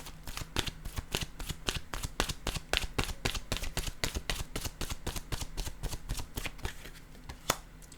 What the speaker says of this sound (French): Je vais maintenant choisir une carte de mon oracle de l'âme intuitive.